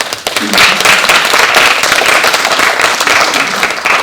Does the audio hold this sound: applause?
yes